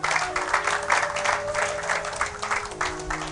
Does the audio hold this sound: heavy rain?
no